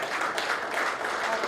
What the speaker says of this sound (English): Another round of applause for Professor Thomas.